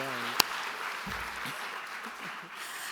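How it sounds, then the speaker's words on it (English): Applause from an audience at a foundation awards event honoring CEO David Greising, fairly faint and steady, with a brief voice and a sharp tap near the start. "giving our one and only CEO, Mr. David Greising, a round of applause"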